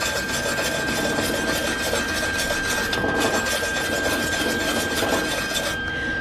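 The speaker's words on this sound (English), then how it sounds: "Scrape this down again a little bit." Aluminum is scraped down before MIG spool-gun welding, giving a continuous close, harsh rasping and scratching, steady and loud throughout, with a constant high whine running under it.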